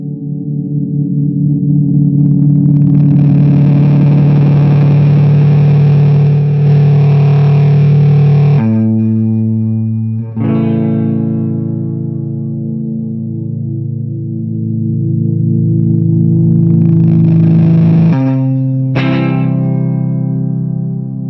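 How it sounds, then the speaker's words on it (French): A guitar fuzz pedal, a Fjord Fuzz, pushed into self-oscillation: a loud sustained buzzing drone that swells, then cuts and shifts pitch in abrupt steps, returning and rising again with echoing, distorted tails. "quand tu appuies là-dessus, ça part en auto-oscillation"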